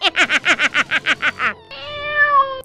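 Cartoonish cats meow in the VR tower-defense game Kittypocalypse, first a quick run of about nine short, even meows and then one longer, drawn-out meow, all loud and close.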